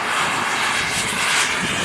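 A fixed-wing airplane drones overhead during an emergency landing at the Air Supremacy over Goshen 2025 air show, its engine a steady, loud, broadband roar with no breaks and no talk.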